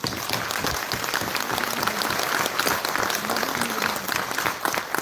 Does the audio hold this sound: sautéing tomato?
no